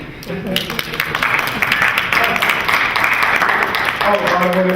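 An audience applauds steadily at a Healthy Living TV show taping, a dense, continuous wash of clapping that stays loud through the whole stretch, with some tonal background sound mixed in.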